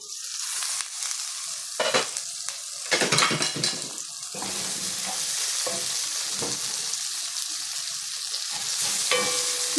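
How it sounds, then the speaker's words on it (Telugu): Chickpea and brinjal curry frying and simmering in a pan, a steady sizzle with bursts of stirring and spoon scrapes against the pot, close and fairly loud with no voices. "దాంట్లో ఫ్రై అయితే మగ్గితే బాగుంటుంది ఇంకా కొద్దిసేపు ఉంచుదాము"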